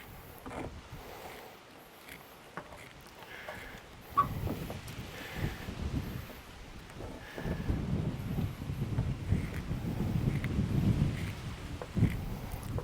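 Gusty wind blowing outdoors during a camper trailer fridge build, a low broadband rumble that swells and grows stronger and steadier in the second half, with a few faint knocks and clicks.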